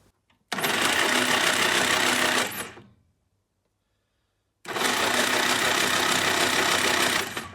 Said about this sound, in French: on va lancer tout ça et on va voir si on a de l'allumage ou pas